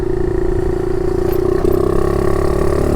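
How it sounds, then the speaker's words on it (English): A 2022 Honda Navi motorcycle engine runs loud and close with a steady buzzing idle, then its pitch shifts slightly partway through as it settles or revs a little. No one speaks. "Let's go ahead and get this thing fired up."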